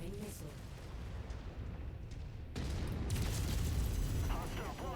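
A missile slams into a mech in MechWarrior 5 with a loud booming blast, and a dense explosive rumble swells over continuous battle noise for several seconds.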